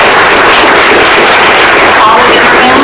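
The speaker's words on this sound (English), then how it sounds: "could you please applaud as I call their names?" Audience applause for officers being named at a 2023 National Junior Honor Society induction ceremony: dense, steady clapping from a crowd filling the whole stretch, loud and continuous without a break.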